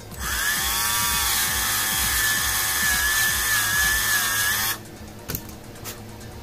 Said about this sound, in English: because the hole is too small, we have to file it out. So we use a Dremel here.